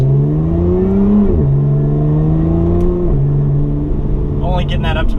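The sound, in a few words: Lotus Evora 400 engine revving to about 4,000 RPM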